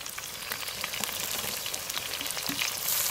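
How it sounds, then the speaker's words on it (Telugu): Tomatoes tossed into a pan of frying green chillies for a Nellore fish curry crackle and sizzle loudly and close, a dense spattering hiss with small pops. "పచ్చిమిర్చి వేసిన తర్వాత టమాటాలు కూడా వెంటనే వేసుకుందాం"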